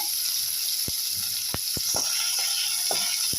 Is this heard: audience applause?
no